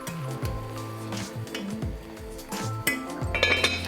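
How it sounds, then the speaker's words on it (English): Eggs set one by one with a ladle into a pot lined with onion skins, giving light clinks and knocks against the pot beneath steady background music. "ladle and put them gently in here, one by one, making sure that they are covered by the onion skin"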